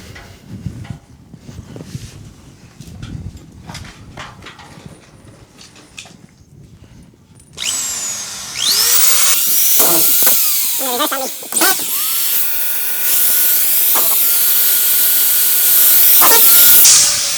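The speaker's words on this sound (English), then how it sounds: "we'll finish screwing off" Power drill driving screws into a drywall sheet patching a large hole in a ceiling, heard as loud bursts of whirring and grinding after a quieter stretch, with several separate screw runs close by.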